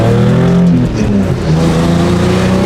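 Engine of a lowered, worn Toyota Supra revving hard, a loud close roar that rises and dips before surging again.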